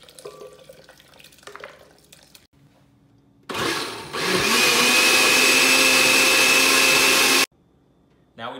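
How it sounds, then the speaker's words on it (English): A kitchen blender purees soft cooked butternut squash, a loud steady whirring roar lasting about four seconds, after brief quieter handling noises. "The butternut squash is really soft, as you can see. I compress it down with a spoon, and it's ready to be blended"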